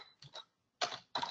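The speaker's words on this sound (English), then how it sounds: "I'm sorry if you hear typing there, but I can't totally avoid that." Keystrokes on a computer keyboard come in short clustered bursts with gaps between them, fairly close and moderately loud, with no voices present.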